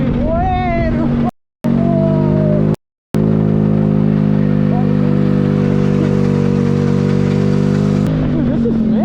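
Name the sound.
moped engine powering a homemade car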